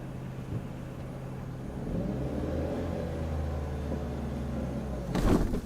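Car engine idling and rumbling during a driving lesson, a low steady hum that swells slightly midway and ends with a brief louder rev, no speech.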